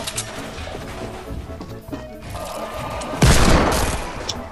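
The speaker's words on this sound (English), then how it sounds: "Raptor, don't shoot at me." Gunfire in the Fortnite video game comes as scattered shots and impacts, with a louder burst of bangs and crashes near the end. There is no talking.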